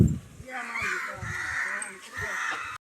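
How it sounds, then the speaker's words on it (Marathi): Several crows caw repeatedly nearby, their harsh calls overlapping in a short, busy burst. "कावळे बघा किती"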